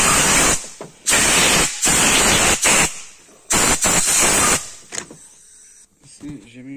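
Compressed air blasts onto Audi A3 engine parts during a timing belt replacement, several loud hissing bursts separated by short pauses, followed by quieter workshop handling noises.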